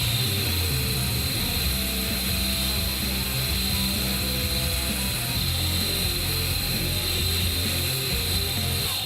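A belt grinder hollow grinds the bevel of a heat-treated 52100 steel karambit, giving a loud, continuous abrasive whir and hiss with a steady motor drone throughout.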